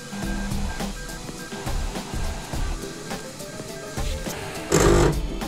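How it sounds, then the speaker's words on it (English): Sovol 3D printer probing bed-leveling points, giving off a run of whirring, grinding motor bursts with short pauses between moves and a louder burst near the end, close and with no talk. "Any type of grinding that you hear is normal."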